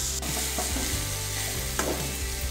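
Liver being stirred into a hot pan for a traditional liver roast, sizzling steadily with scraping stir strokes near the start and end, close and clear with no talking.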